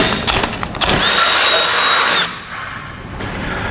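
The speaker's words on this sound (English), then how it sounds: "we can take a 17/32 drill bit, and we're going to use our base plate here as a template, and we're going to drill right on in" A power drill with a 17/32 bit bores through a steel base plate for a Jeep Wrangler setup, loud steady whine that strains under load, then drops in pitch and volume as the bit breaks through.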